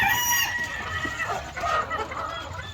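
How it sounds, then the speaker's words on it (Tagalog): White heritage pullets cluck and cackle close by on a farm, with busy overlapping calls and no talking. "So yan yung mga puti nating manok mga ka-farmers"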